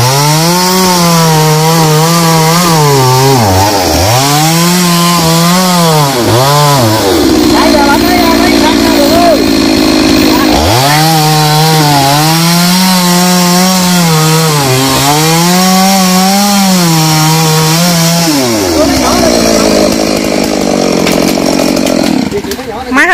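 A chainsaw cuts through the base of a large mangrove tree trunk, loud and close, its engine bogging and revving in repeated surges with a couple of idling lulls between cuts.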